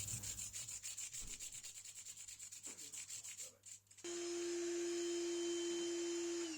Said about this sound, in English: And now buffing the frets up to 1000 grit.